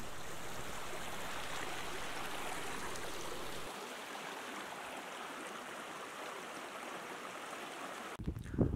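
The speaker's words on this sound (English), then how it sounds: "Burn, by the way, is Scottish and Ulster Scots for a stream or a wee river." Small Deele river, a burn, flowing as a stream, heard as a steady, close rushing wash of water that stays even throughout, with a brief rustle or knock near the end and no voices.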